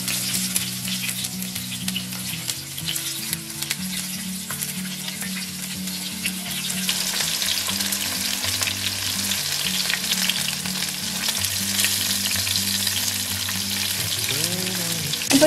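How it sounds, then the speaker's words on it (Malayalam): Marinated fish pieces shallow frying in hot oil in a pan, a steady close sizzle and bubbling hiss that swells slightly over time, with no voices. "ഒരു പാനിലേക്ക് എണ്ണ ഒഴിച്ച് അത് ചൂടായി കഴിഞ്ഞാൽ നമുക്ക് അതിലേക്ക് മാരിനേറ്റ് ചെയ്ത് വെച്ചിരിക്കുന്ന ഫിഷ് ഇട്ടിട്ട്"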